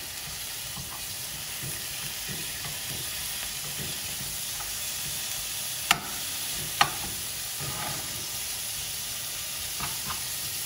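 Cheesesteak meat and vegetables fry in a skillet over a flame, a steady close sizzle with a couple of sharp clicks from stirring or breaking up the meat, and no talking.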